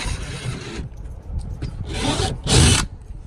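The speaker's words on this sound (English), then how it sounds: "I'm gonna go ahead and drill a hole right there." A power drill bores through the plastic hull of a Dagger Katana kayak in short whirring bursts, grinding louder near the end, close up with no talk.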